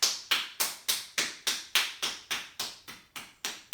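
Hands tap along an arm during a yoga session, about thirteen crisp, evenly spaced pats in a steady rhythm, close and fairly soft, with no voices.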